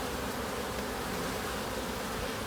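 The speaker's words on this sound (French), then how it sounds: "ça fait plaisir de revoir un peu les abeilles" Honeybees at a hive in early February give off a dense, continuous buzzing that stays steady and unbroken throughout.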